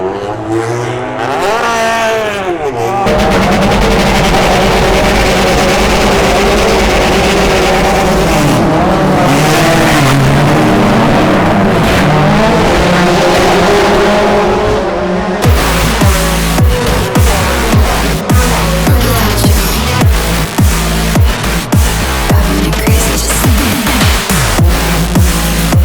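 British Touring Car Championship 2023 race cars at Oulton Park roar loudly and continuously, engines revving and shifting as a pack races by, with tire squeal and a sharper burst of passing cars near the end.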